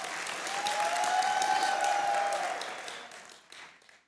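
A live studio audience at a cricket talk show with Ahmed Shehzad bursts into loud applause, dense clapping that swells and then tapers off toward the end.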